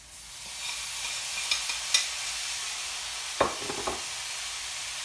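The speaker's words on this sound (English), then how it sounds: "now you can hear more of the sizzle because we're at medium high" Liver sizzling in a pan over medium-high heat, a steady soft frying hiss with a few brief clinks and scrapes of stirring, no voices.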